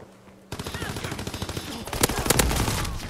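Rapid machine gun fire in the World War II shooter Call of Duty WW2, starting abruptly after a quiet moment and rattling on in fast bursts, with heavier gunshots and explosions near the end.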